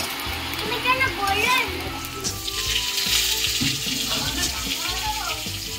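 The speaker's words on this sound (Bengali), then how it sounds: "ওর কথা শুনতে শুনতে এদিকে কড়াইতে পেঁয়াজটা ভাজা হয়ে গেছে" Onion and fish frying in oil in a wok, a steady loud sizzle with water-like hiss, under a voice and other people talking nearby.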